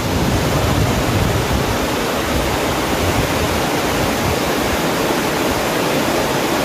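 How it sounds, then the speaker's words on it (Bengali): A river rushes past a resort balcony near Darjeeling, a loud, continuous roar of flowing water, broad and unbroken from start to finish. "আর ব্যালকানির পাশেই এই হচ্ছে নদী।"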